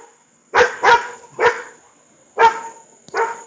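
Several dogs fostered at a home bark in short loud bursts, five sharp barks spaced irregularly over a few seconds, close by and with no talking.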